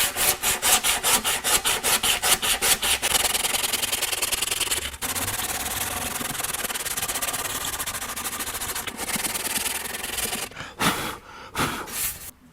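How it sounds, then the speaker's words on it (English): Sanding block rubbing along the curved wooden edge of a seat, brisk rhythmic back-and-forth strokes at first, then continuous close scraping with short pauses near the end. "And then the final step will be to block sand it."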